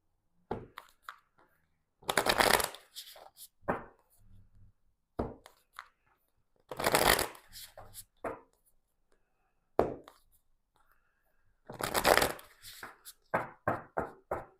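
Tarot cards being shuffled by hand in a series of short riffling bursts, close and fairly quiet, with brief pauses between shuffles and no talking over them.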